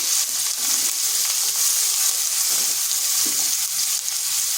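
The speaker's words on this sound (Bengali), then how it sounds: "এগুলোকে একটু ভেজে নিচ্ছি" Dried chili, black cumin and sliced onion sizzle in hot oil, a steady, close, bright frying hiss with faint stirring clinks and no talking.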